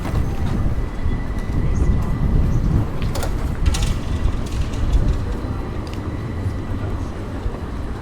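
A tram rumbling past on a busy Sydney street near Victoria Park, a loud, low, continuous roll with brief metallic squeals and clanks midway, crowd noise underneath.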